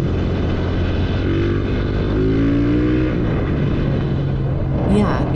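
A Titan 160 motorcycle fitted with a 220cc piston kit runs on the road, its engine droning steadily with a brief rising rev in the middle, loud and continuous under wind noise.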